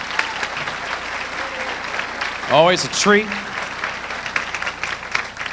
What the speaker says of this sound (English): Let's give our men in blue, the United States Marine Corps, a round of applause.